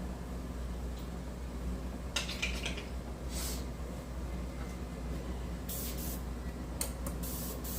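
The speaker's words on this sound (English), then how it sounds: "Let me put a little bit in the cup and test spray it." Several short hissing bursts of an airbrush test spraying at about 12 psi, on and off, over a steady low mechanical hum.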